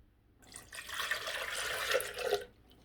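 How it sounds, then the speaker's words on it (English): Oat milk poured into a Vitamix blender jar, a soft steady liquid stream lasting about two seconds, quiet and close with no talking. "And then I'm also going to add 2 cups of oat milk."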